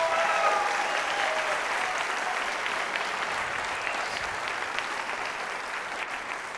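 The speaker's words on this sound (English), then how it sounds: "One more huge round of applause and gratitude for Vule." An audience at a Fast Pitch 2017 event gives a sustained round of applause, an even, dense clapping that fills the room at a fairly soft level from start to finish.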